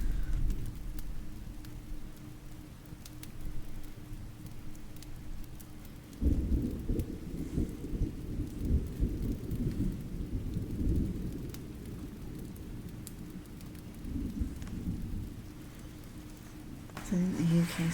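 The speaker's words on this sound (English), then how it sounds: "I've got rain sounds playing in the background." Recorded rain and thunderstorm ambience, a steady hiss of rainfall with deep rolling rumbles of thunder swelling partway through, playing softly in the background under a quiet live journaling setup.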